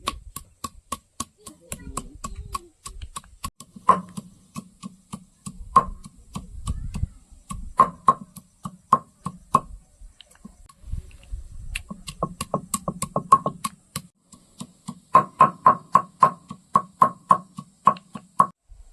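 Onion being chopped with a knife on a board, a long run of rapid, crisp, even taps that comes in bursts with short pauses, close and clear, with no talking over it.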